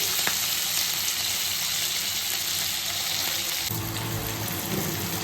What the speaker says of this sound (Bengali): এই যে মাছটাকে ভেজে নিচ্ছে